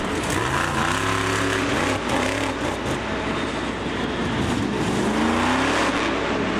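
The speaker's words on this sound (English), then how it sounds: "Different exhaust notes than some of the other trucks." A monster truck's deep, continuous engine rumble with a throaty exhaust note at Bristol Motor Speedway, loud and steady throughout, with slight revving swells and no talking.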